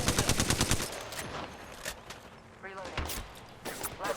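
A close burst of rapid automatic gunfire from Apex Legends, followed by scattered shots, a short rising whirring effect and more bursts, with a voice speaking in between.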